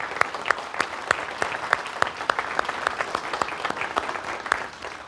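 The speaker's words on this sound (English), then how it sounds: "let's give a round of applause to our board" Audience applause for a software company's board at a business talk, steady dense clapping from a sizeable crowd with sharp individual claps standing out, fairly close and continuous throughout.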